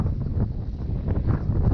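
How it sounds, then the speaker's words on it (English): Strong wind buffets the microphone aboard a Dazcat 1495 catamaran in a low, continuous rumble with gusting swells, no voices. "We're looking a little windy now."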